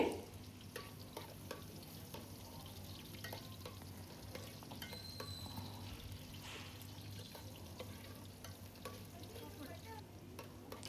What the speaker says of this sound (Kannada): ಅದನ್ನು ಗೋಲ್ಡನ್ ಬ್ರೌನ್ ಬರೋವರೆಗೂ ಫ್ರೈ ಮಾಡ್ಕೊಳ್ಳಿ